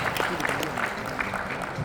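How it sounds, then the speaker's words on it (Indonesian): Moderate applause from an audience after a student presentation, a soft continuous patter of clapping with voices talking over it. "kita beri tepuk tangan sekali lagi untuk Steven."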